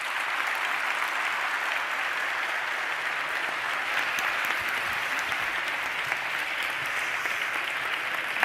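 An audience applauds after a talk on emerging visual effects technology for film, with a long, steady wall of clapping that holds at an even, moderate level from start to finish.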